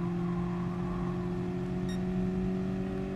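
A race car engine in Gran Turismo Sport holds a steady, close, tonal whine and drone, continuous and even in loudness throughout.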